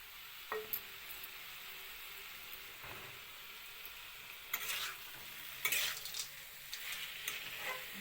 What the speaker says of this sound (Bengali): ভাজা মশলাটার সঙ্গে ভালো করে মিশানো হইব